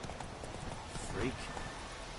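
A horse in The Witcher 3 gallops with rapid clip-clopping hooves, briefly heard under a voice.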